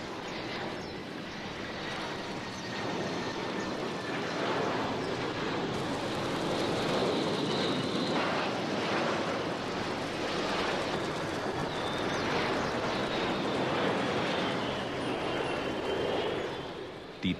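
A low-flying airliner on final approach to Hong Kong's airport roars over the rooftops of Kowloon Walled City, a loud, continuous engine rumble and whine that swells and holds for the whole stretch.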